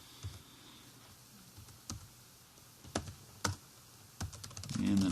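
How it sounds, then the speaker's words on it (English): Typing on a computer keyboard while entering a phone number into a database form: a handful of sharp, separate key clicks spaced irregularly, close and fairly quiet, with soft low rumbles between them and no talking. "when I start typing her phone number"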